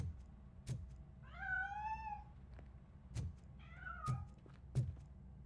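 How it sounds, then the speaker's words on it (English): A cat meows twice in the video game RoboCop: Rogue City, two clear drawn-out calls separated by a pause, with dull thuds and knocks scattered around them in a quiet space. "That cat must be hiding inside."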